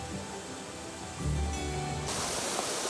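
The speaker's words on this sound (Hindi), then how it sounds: "एक छोटा सा वाटरफॉल है यहाँ पे, आवाज़ आपको आ रही होगी।" A small waterfall in a green-water river canyon makes a steady broadband rush of falling water, with no speech.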